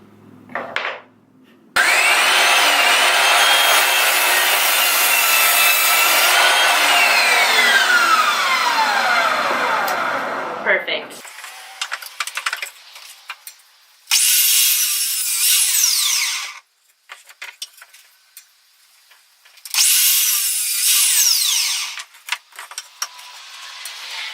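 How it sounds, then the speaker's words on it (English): A miter saw set to a 30 degree angle cuts through wood, with one long loud bite followed by several shorter cuts, each a sharp whining rasp that stops abruptly, heard close up with no talking. "I'm gonna unlock my stopper, turn my blade to 30 degrees, and start cutting."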